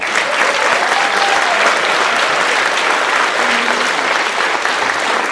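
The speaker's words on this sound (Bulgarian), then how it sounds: "Аплодисменти за симфонията Враца." A hall audience claps steadily and loudly for the Vratsa symphony orchestra at a kindergarten anniversary gala concert, a continuous wash of applause with a faint voice or tone briefly rising within it.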